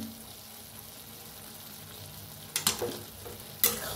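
Masoor dal with fresh coriander being stirred in a pan, soft low simmering hiss followed by a few distinct scraping clatters of a spoon against the pan near the end.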